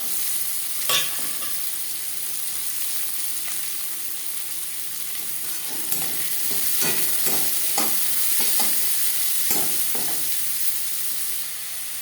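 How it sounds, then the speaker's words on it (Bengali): Chopped onions go into hot refined oil in a karahi that was just used to fry fish. A steady hiss rises, with bursts of crackling and sharp stirring clicks close by. No one speaks. "এবার দিয়ে দেবো পেঁয়াজ কুচি।"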